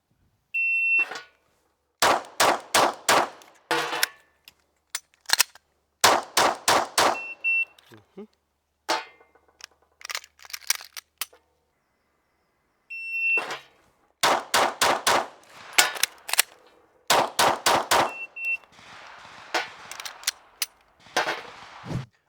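Glock pistol fired during a timed shooting test, loud close shots in rapid strings of four to six separated by pauses, with short electronic timer beeps starting each string.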